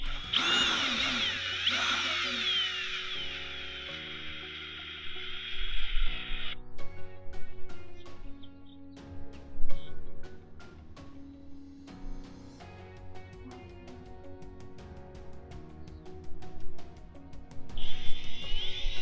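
A cordless drill drives screws into a travel trailer roof during a satellite dish install: bursts of high motor whine that stop and start, with knocks and clicks between them, close and loud.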